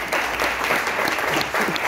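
An audience at a university colloquium breaks into dense, steady applause that fills the room for a couple of seconds.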